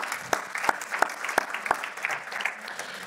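A congregation gives a brief, sparse round of applause for a worship band. Sharp individual claps stand out over a soft bed of clapping, and the whole thing is fairly quiet.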